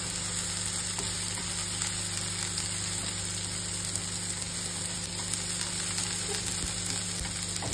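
Steak frying in a crowded pan, a steady close sizzle and crackle of meat searing in hot fat, continuous and even throughout with faint occasional pops and no talking.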